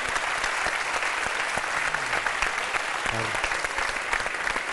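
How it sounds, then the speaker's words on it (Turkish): Applause from an audience at a Turkish disco event, greeting a young street performer; dense, steady clapping fills the whole stretch at close range with faint voices mixed in underneath. "Onun için bir alkış alalım"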